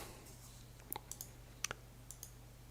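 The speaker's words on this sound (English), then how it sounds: "repeat the same command by just left clicking again" Computer mouse left-clicking, a few faint, sharp single clicks spaced irregularly over a low steady hum.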